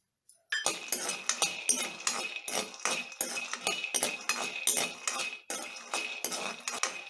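Peanuts dry-roasting in a hot kadai, stirred with a metal spoon that makes quick, rhythmic scrapes and clinks against the pan throughout, close and fairly loud.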